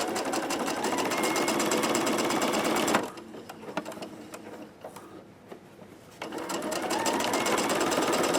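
A sewing machine stitches quilt pieces for a Farmer's Wife quilt, running loud and steady for about three seconds, dropping to quieter handling and brief pauses, then whirring steadily again at full speed.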